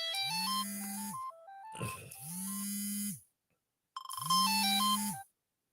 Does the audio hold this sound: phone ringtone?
yes